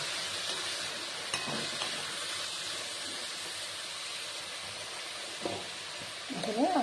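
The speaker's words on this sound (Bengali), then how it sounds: "সবাই তো পছন্দ করে না কাঁচা সবজিটা, এই জন্য আমি একটু হালকা একটু ভেজে নিই।" Vegetables for a veg roll fry lightly in a pan with a steady, moderately loud sizzle and hiss throughout, broken by a few brief utensil scrapes and stirring knocks near the end.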